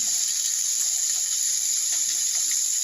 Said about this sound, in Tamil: அது கொஞ்சம் மூழ்கிற அளவுக்கு தண்ணி ஊற்றிக்கிட்டேன்